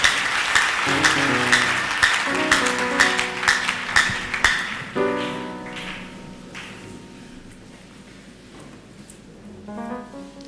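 A church congregation giving a clap offering, loud, dense clapping for about five seconds that thins into scattered claps and fades as people settle, with musical tones sounding underneath.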